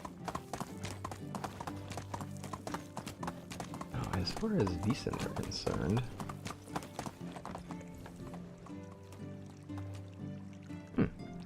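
Horse hooves clip-clopping steadily along a road in the video game Medieval Dynasty, with a brief whinny in the middle and someone talking over it.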